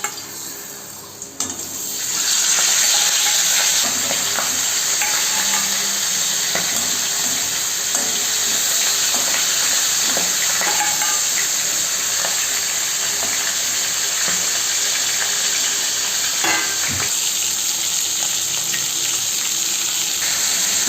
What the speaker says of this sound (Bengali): তেল গরম হয়ে গেছে, এর মধ্যে আমি মাছের মাথাগুলোকে দিয়ে দেবো এক এক করে।